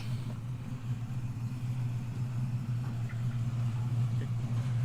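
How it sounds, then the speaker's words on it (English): The engine of a 1956 Chevrolet Corvette idles steadily nearby, a low, even rumble that holds a constant rhythm throughout with no talking over it. "I'm going to let the engine run here for about 10 or 15 minutes"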